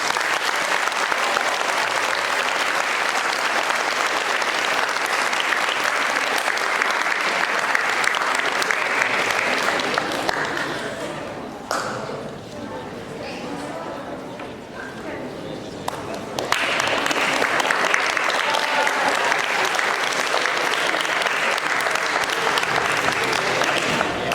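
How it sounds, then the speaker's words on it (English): Sustained audience applause for students at an 8th grade awards ceremony, a dense wash of clapping from a large crowd that dips briefly in the middle before swelling again and continuing steadily. "If you could give these students a round of applause."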